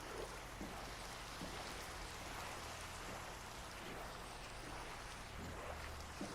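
Rain falls in Minecraft beside the water, a soft, steady, even wash of noise with a low rumble beneath, quiet and continuous with no talking.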